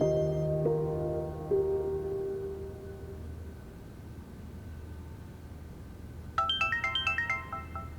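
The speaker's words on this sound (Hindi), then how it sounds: "लो, अब वो मेरे फोन पे कॉल कर रही है।" A bright, melodic phone ringtone starts abruptly near the end, playing a quick repeating pattern of electronic notes over a low steady hum.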